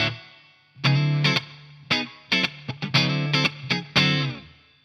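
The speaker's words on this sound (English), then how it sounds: "let's add a bit of reverb coming from my Nux Atlantic pedal" Electric guitar played through a Revv D20 amp with a touch of reverb from a Nux Atlantic pedal, a run of distorted chord stabs and short phrases with brief decaying tails between hits.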